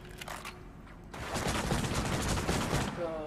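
Gunfire in The Suffering: Prison in Hell, a horror action game: after a quiet second, a dense burst of shots and clatter fills the rest, loud and continuous, with a muffled voice briefly underneath.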